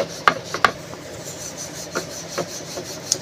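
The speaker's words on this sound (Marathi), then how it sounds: "आपण चपाती लाटतो ना त्याप्रमाणे त्याला लाटून घ्यायचं आहे" Beetroot paratha dough being rolled out with a rolling pin on a floured surface, giving soft scattered rubbing and light wooden knocks at an uneven pace, close and fairly quiet.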